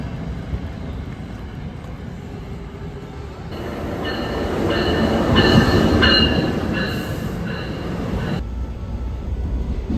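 A commuter train bound for New York rumbles steadily from inside the car, swelling louder midway as wheels squeal in high, wavering tones over the clatter of the track, then easing back to a constant drone.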